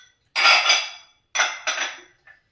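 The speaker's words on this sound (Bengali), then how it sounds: "এখন এগুলো সব জায়গা মতন আবার রেখে দিলাম" Freshly washed kitchen dishes, pots and cutlery being put back in place: three quick bursts of clattering, clinking metal close by, separated by short silences, with no talk.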